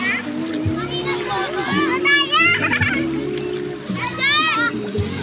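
At a sea beach, water splashes and sloshes around people swimming close by, while children and adults chatter and call out over the splashing.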